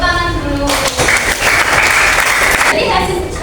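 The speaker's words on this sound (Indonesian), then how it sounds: "tepuk tangan dulu" Classroom applause from students during a coding and artificial intelligence lesson, a dense burst of clapping lasting about two seconds, with voices heard before and after it.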